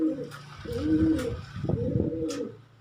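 Pigeons coo nearby in a series of soft, low, rounded calls with a few short pauses between them, clear and close with no talking.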